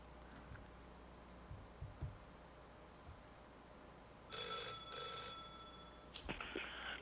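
Faint room noise and a few soft clicks lead into a ringing telephone with two ring bursts after a call is dialed in a meeting room, followed by a brief electronic tone.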